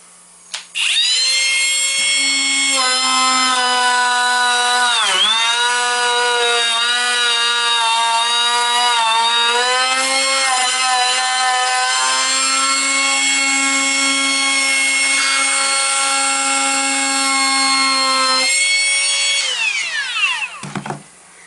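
A Ridgid 18V Octane brushless compact router runs loudly while cutting through wood. It gives a steady high whine for about twenty seconds, dips in pitch briefly as the bit bites, then spins down at the end, with no talking.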